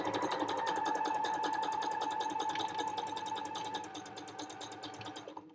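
A sewing machine runs steadily through couching stitches on a chain-of-hearts design, a continuous whirring hum holding nearly constant before tapering slightly and stopping at the end.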